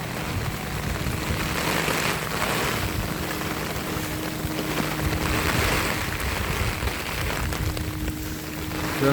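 Steady broadband roar of heavy downpour and rough sea, with a boat moving through the stormy water during a cyclone at Jaffna; continuous and loud throughout, with no voices.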